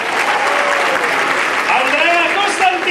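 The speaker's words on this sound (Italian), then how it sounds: "avanti Gianni Cestaro, lui è anche sponsor, lo applaudiamo il doppio" A crowd gives steady, dense applause for a sponsor who is also a player, during the roll call of a football team's squad presentation. The clapping is continuous and loud throughout.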